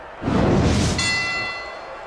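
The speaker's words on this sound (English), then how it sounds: "The bell rings here." A fight bell rings once, loud and close, after a brief whoosh, its bright metallic tone hanging and slowly fading.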